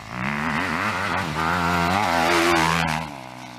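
A four-stroke dirt bike engine revs hard and close for about three seconds, its pitch climbing and wavering through throttle blips before dropping off, loud and alone with no talk.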